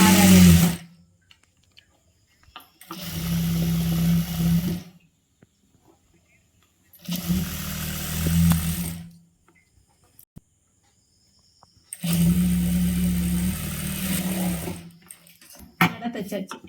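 Sewing machine stitching a churidar in a tailoring workshop: four bursts of steady whirring motor, each about two seconds, separated by quiet pauses, with brief voice between runs.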